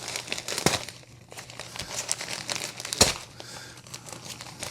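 Crinkly packaging around a Tactile Knife Co. Archer flipper knife rustles and crackles up close as it is unwrapped, with a couple of sharper snaps among the steady crumpling.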